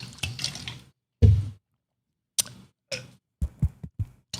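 Water is poured in short, separate splashy bursts at close range, with silent gaps between the pours and no talking.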